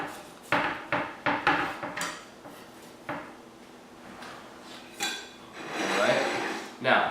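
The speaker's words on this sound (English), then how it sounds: "Now, what I do is I just cut the ends off first" A knife cutting the ends off a banana, several sharp knocks of the blade against a plate or board in quick succession, then scattered single taps and a rustling handling noise.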